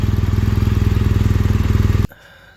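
A BMW R1200GS Adventure boxer-twin engine idles while warming up before an oil change, with a close, loud, even pulsing throb that cuts off abruptly near the end.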